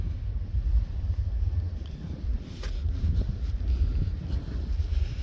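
Wind buffeting a microphone beside the River Mersey in Liverpool, a low, rumbling, gusty roar that continues throughout, with no talk.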